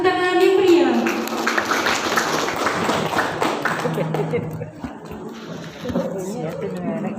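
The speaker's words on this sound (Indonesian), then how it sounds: "Berikan tepuk tangan yang meriah." Applause from the audience at a school farewell ceremony, a dense patter of clapping that is loudest at the start and thins out, with a presenter's voice over it and chatter around it.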